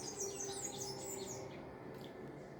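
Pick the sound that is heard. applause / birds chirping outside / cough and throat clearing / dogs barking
birds chirping outside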